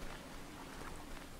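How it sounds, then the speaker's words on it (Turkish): Steady, even rain hisses across a wide band in the survival game Stranded Deep, a faint continuous downpour with no other sounds. "Yağmur yağıyor."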